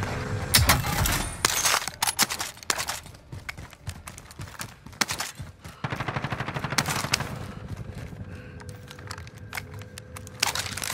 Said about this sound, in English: I can hear gunfire going off above me